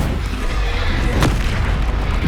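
A Bombarda spell explosion in the video game Hogwarts Legacy gives a single deep boom midway, set in a dense, rumbling game soundscape with steady low background noise.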